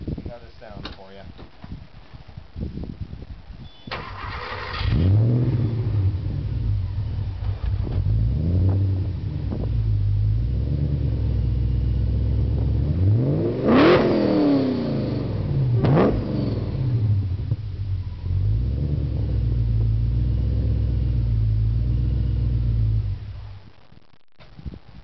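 A Porsche 928 GT fitted with a new dual 2.5-inch exhaust rumbles at idle, then revs in a few sharp rising and falling bursts, deep and close, with a door clunk and brief talk nearby.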